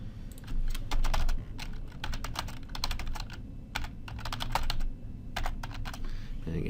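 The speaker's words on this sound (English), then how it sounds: "I usually pause it to type because the typing is obnoxious." Rapid typing on a computer keyboard, close and clear, with bursts of clicky keystrokes separated by short pauses over a low background hum.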